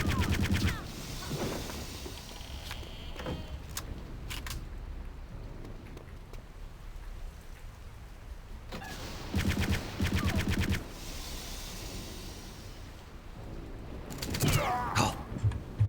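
Gunfire in Return to Castle Wolfenstein, repeated sharp bursts of automatic shots in clusters across the stretch, loud and close, with quieter mechanical rattles in between.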